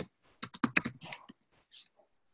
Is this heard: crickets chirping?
no